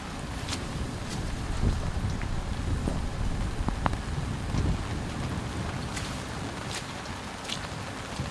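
Heavy rain and gusting wind batter a camper van during a massive storm, a steady dense patter of drops with sharper hits on the roof and a constant windy roar, with no voices.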